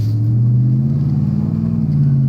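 A 2007 Dodge Ram 2500 heavy-duty pickup with a 5.7-liter Hemi V8 revs loudly up close, a deep steady rumble that climbs slightly in pitch and holds throughout with no voices.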